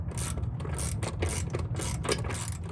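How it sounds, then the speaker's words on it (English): A wrench and socket work a 7/16 bolt and nut on a modular rear bumper for a Lexus LX470, giving a rapid series of close, rhythmic ratcheting clicks in quick bursts with no talking. "we're going to use an open end wrench on the top on the nut and a socket on the bottom"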